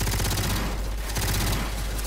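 Rapid bursts of automatic gunfire in the zombie shooter Left 4 Dead 2, dense and continuous with overlapping shots, fairly loud throughout.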